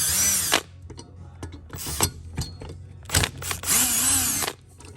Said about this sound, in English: I took an Allen wrench, I cut it in half, put it in this drill